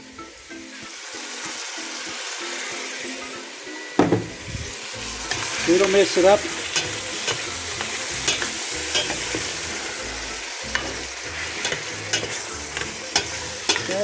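Chicken cooking in beer is frying and being stirred in a pan, a steady close sizzle with scraping stir strokes. It starts quieter and grows louder after a few seconds, and someone speaks briefly over it.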